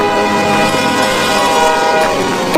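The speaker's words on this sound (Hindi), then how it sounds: "गुंजन धौलपुर रेलवे स्टेशन पर उतरता है" A train at a railway station, used as a story sound effect: a loud, steady rumble of rolling cars with a long, sustained horn blast, with no talking.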